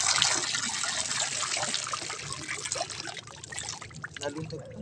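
Water pours and splashes steadily as it drains out of a boat, a broad wet rush, with people talking over it throughout.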